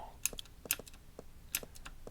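Sharp computer keyboard key presses in a Minetest game, close and crisp, landing in small irregular clusters of clicks with brief pauses between them and no voice over them.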